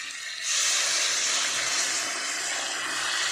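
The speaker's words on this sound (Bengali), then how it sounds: "তো বন্ধুরা এবার আমি জল দিয়ে দেবো" Water hits a hot pan of prawns being cooked for chow mein, bursting into a loud, steady hiss that swells after a brief quieter start and holds for several seconds, close and unbroken.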